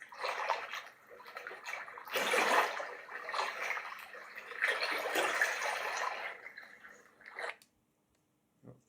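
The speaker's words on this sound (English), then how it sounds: "We've got ocean wave." A Letsfit white noise machine plays its ocean wave sound from a small speaker, soft surges of washing surf that swell and recede in slow waves, then the sound cuts off.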